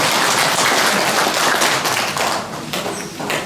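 Audience at a Busan lecture applauds a musician: steady, loud, close clapping filling the room for a few seconds before tapering slightly.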